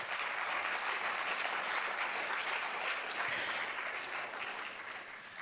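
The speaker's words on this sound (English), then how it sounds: "really want to give another applause to those who submitted proposals" A crowd at a media and journalism national awards celebration applauds warmly, a full, even roar of clapping that holds steady and then begins to taper off near the end.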